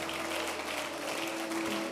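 Church congregation applauding in praise during a French-language worship service, a steady dense wash of clapping with a sustained tone humming underneath, no speech.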